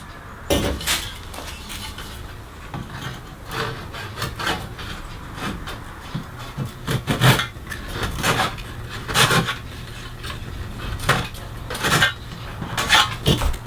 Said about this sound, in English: I've put a stop block on my miter box here, and I'm going to cut these to length.